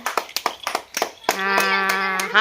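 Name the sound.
children clapping hands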